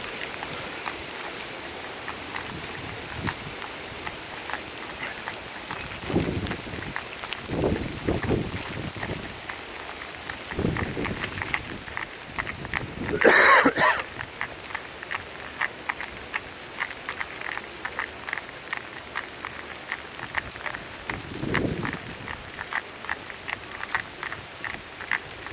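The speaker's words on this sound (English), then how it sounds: "we do get some gusts." Gusty wind and rain during Hurricane Irma at Disney World, with steady wet rushing and a few louder swelling gusts, one sharper burst in the middle, recorded outdoors with no talking.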